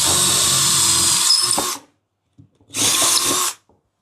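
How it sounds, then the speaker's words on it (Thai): Power drill boring a hole in plywood at a drill press stand, to fit an embedded nut: two loud sustained bursts of whirring drilling, close up, separated by a short quiet pause with faint clicks. "เดี๋ยวผมเจาะรูเพื่อที่จะ ฝังร้อยน็อตนะครับ"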